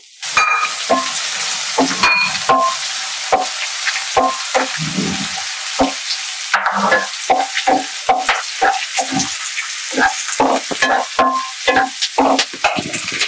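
Thinly sliced onions fry in hot tempering oil, a close, continuous sizzle broken by frequent sharp stirring scrapes and taps from a spoon, with no talking.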